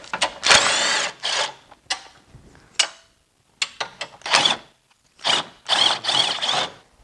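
A ratchet loosens intercooler bolts on a Volkswagen MK7 GTI, giving close, loud bursts of rapid clicking separated by short pauses, with no talking.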